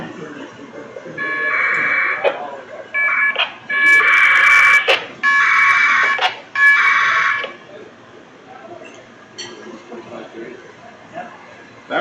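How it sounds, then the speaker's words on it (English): Bursts of 1200 baud packet radio data tones trade back and forth at an amateur radio club meeting, several loud, steady warbling blocks in quick succession, with quiet room chatter between and after them. "That's the sound of 1200 baud packet going back and forward."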